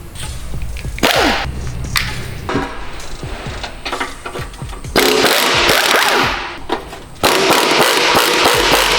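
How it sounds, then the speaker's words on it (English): Impact wrench removing the stock exhaust from a Subaru STI in bursts of loud, harsh rattling hammering, separated by quieter gaps, close and dominant. "Every time you guys use impact tool like this"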